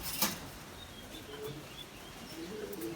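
Pigeons in a loft give soft, intermittent low coos at a moderate distance over quiet room ambience, with a faint flutter near the start.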